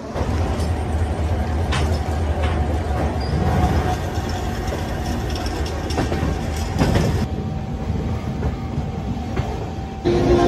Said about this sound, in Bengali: এই বারবিল জনশতাব্দী এক্সপ্রেস এই হাওড়া থেকে ছেড়ে এরপরে যাবে খড়গপুর